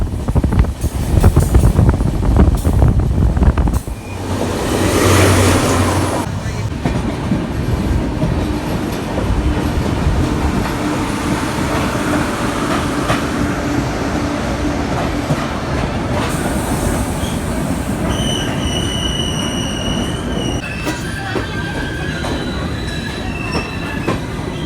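A train runs along its tracks through hilly country, a loud steady rumble of wheels and carriages with brief squeals and clatter, no voices.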